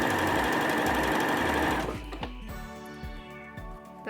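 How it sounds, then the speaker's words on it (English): A sewing machine stitches a fabric strip onto the front edge of a wrap top made from a man's shirt, running in a fast continuous whir, then slowing into distinct, evenly spaced mechanical clicks near the end. "Now I'm adding the strip, sewing the strip to the front edge"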